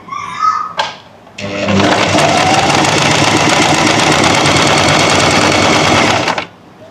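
A sewing machine runs a steady, fast, continuous stitching whir for about five seconds while sewing a neckline, after a brief lead-in.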